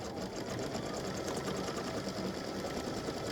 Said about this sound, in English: Color stop 11 is going to stitch the stars.